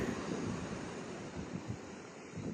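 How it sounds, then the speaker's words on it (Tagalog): Large waves and strong wind at sea from a small fishing boat, a constant rough rush of surf and wind buffeting the microphone, fairly faint and steady with no talk. "malalaki yung alon"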